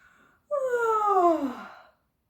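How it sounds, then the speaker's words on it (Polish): A long, drawn-out voiced yawn, done as a mouth exercise pretending to be a tired snail, rises and then slides downward in pitch before fading into silence after a brief quiet breath. "Będzie ziewał, bo chce już iść spać."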